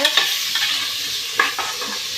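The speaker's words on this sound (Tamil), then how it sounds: "பாருங்க எப்படி தாளிக்கிறாங்க" Spices temper in hot oil for vegetable biryani, a continuous bright sizzle with a few sharper crackles and spoon-stirring scrapes, close and fairly loud.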